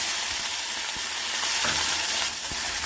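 Green chilies and curry leaves sizzle loudly in hot oil with mustard seeds, cumin and urad dal for a tempering, a close, steady frying hiss with faint stirring scrapes throughout.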